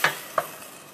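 Cauliflower frying in a pan is stirred with a utensil, giving two quick scraping knocks over a soft, steady sizzle.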